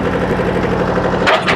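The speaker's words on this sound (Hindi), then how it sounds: "थोड़ा सा ट्रैक्टर आगे चला जाए।" Tractor pulling a Birbal rotavator through hard soil on a farm in Maharashtra: a loud, steady diesel engine drone with rhythmic knocking vibration, then a brief rattling burst near the end.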